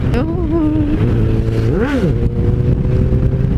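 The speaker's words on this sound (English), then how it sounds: "He revs his engine really loudly and he shows off." An old motorcycle revs loudly close by, its engine note climbing and falling in repeated throttle blips over a steady idle, with a bigger surge near the middle.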